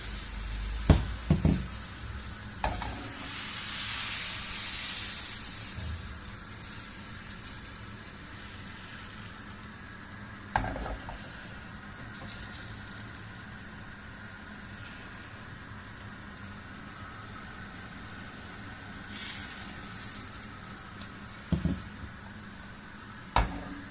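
Batter poured into a dry, ungreased frying pan sizzles steadily for a long stretch, with a louder hissing burst early on and occasional clicks and knocks of utensils against the pan.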